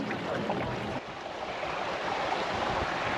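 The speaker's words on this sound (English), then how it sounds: "the hot water flows directly into the ocean" Hot spring water flowing directly into the ocean at a thermal pool on the Azores, a steady, fairly loud wash of rushing water and surf with no talking.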